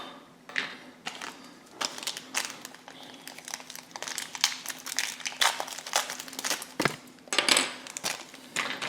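A small plastic tray holding a chrome Nissan GT-R model part is handled up close, with irregular crinkles, taps and plastic clicks in scattered bursts against a faint background hum.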